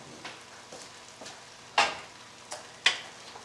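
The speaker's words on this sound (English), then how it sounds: "now we're gonna be adding the shrimp with the tail" Shrimp with tails dropped into a hot pan for a fettuccine rigate shrimp sauce, giving a few sharp sizzling bursts over a faint background crackle, close by with no talk.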